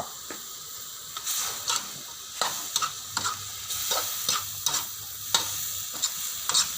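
Het thop mushrooms stir-fry in a smoking-hot pan with a steady loud sizzle, broken by repeated scraping and tossing strokes of a spatula at an uneven rhythm.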